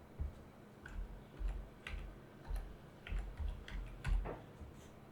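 Quiet keystrokes tap out on a computer keyboard in short irregular bursts, each click soft and close, with faint room hush between them.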